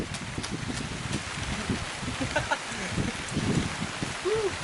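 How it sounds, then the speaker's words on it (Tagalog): Steady rain pours down with a dense, hissing patter, joined by rustling and a few faint voices underneath. "Ayan guys, malakas ng ulan."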